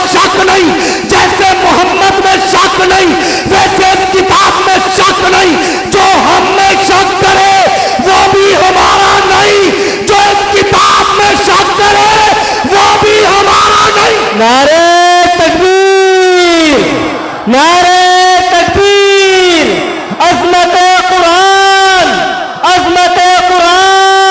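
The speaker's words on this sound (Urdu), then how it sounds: "اللہ رسول صاحب اہل بیت کے نعرے" A large crowd at a religious gathering loudly chants slogans in unison, rising in rhythmic waves of shouted phrases, very loud and close, following energetic speaking.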